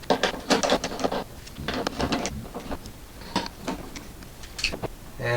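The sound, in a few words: unscrewing T20 Torx screws from Mercedes ML W164 headlight ballast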